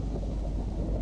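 Low rumbling thunderstorm noise with wind in the Local Weather and Storms mod, a dense continuous roar filling the whole brief moment with no voices.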